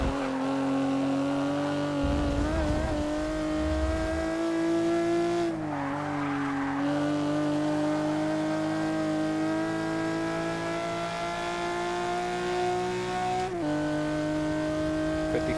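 A 1963 Ferrari 250LM engine in Forza 6 drones steadily at high revs throughout, pitch rising and dipping with gear changes and a brief tire squeal, loud and continuous with no talk.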